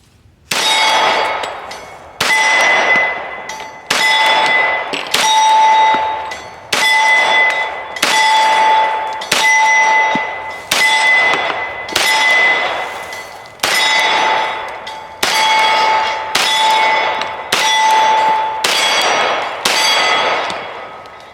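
An H&K Mark 23 pistol fires about a dozen loud, sharp shots at a steady pace, each shot followed by a brief metallic ringing clang.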